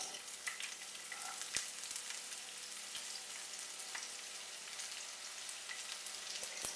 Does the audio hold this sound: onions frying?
yes